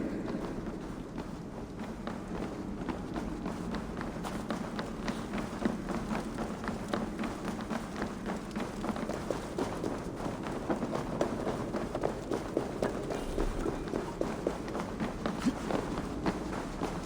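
Running footsteps in the video game Assassin's Creed Valhalla, a steady rapid patter of steps carrying on throughout over a dense, rumbling game soundscape.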